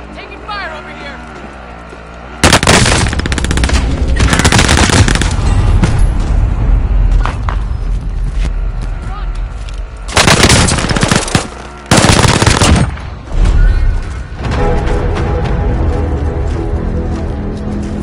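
Loud bursts of automatic gunfire and single shots rattle through a shooter video game set on the Caldera map, repeating in heavy volleys with booms and game voices in between.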